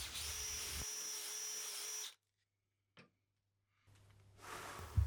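A power drill bores the bowl hole into a wooden tobacco pipe using a homemade bowl bit, whining loudly for about two seconds, stopping to near silence with a brief knock, then starting up again.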